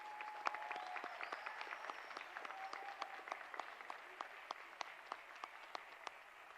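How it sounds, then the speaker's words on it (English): Audience applause at a senior award ceremony: fairly quiet, sparse clapping from a modest crowd, individual claps standing out over a faint steady hum. "Let's give these seniors one last round of applause."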